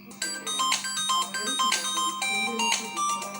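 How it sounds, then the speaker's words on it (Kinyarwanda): A mobile phone rings with a melodic, chiming ringtone whose notes repeat steadily, fairly close, while a voice talks over it. "Ikimara kugenda gato telefone irasona."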